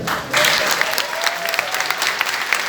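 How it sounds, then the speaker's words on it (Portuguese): Applause breaks out in a crowd at the Cidades pela Democracia political event in Belo Horizonte, starting after a short pause and continuing as a steady, dense wash of clapping to the end. "Grande aplauso."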